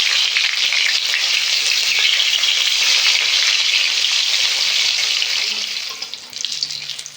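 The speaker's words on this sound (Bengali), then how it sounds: "আর এই মাছের দই কাতলা বানাতে গেলে মাছ খুব বেশি ভাজবো না, হালকা করেই ভাজবো।" Pieces of katla fish lightly frying in hot oil for doi katla, a steady close bright sizzle that holds for most of the clip and eases slightly near the end, with no talking.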